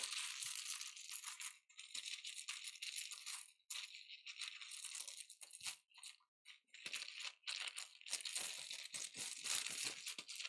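Plastic and cardboard board game pieces from Kinfire Chronicles: Night's Fall rattling and clattering as they are poured into a bag, a continuous crinkly jostling with brief pauses, close and clear.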